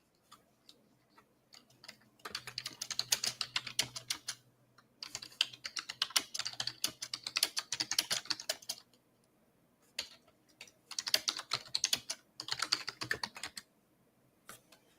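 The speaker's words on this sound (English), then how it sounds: "I legit picked up a mechanical keyboard because I couldn't stand not hearing anything when I type." Fast typing on a mechanical keyboard comes in dense bursts of crisp clacking keystrokes, broken by short pauses, with the nearby bursts rapid and unaccompanied by speech.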